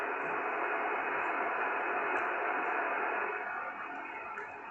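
A Kenwood TS-820S receiver tuned to a quiet 20-meter band puts out a steady, even hiss of static with no signals coming through. The noise is faint and constant, dropping slightly toward the end, and no one speaks.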